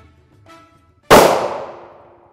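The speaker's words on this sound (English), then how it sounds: "We're going to take our first shot, center of mass, right on that star." A single loud close gunshot fired at an RMA Defense Model 1155 Level IV armor plate, a sharp crack that rings out and decays over about a second, preceded by a faint low rumble.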